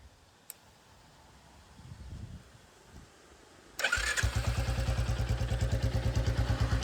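A modified Battalion Black 350 motorcycle engine starts up after a quiet lead-in, then idles loudly and close with a steady, rapid thumping beat.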